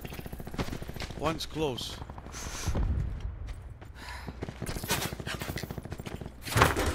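Enemy gunfire in Call of Duty Black Ops 4 crackles in rapid bursts throughout, close and sharp, with players talking over it and a louder volley near the end.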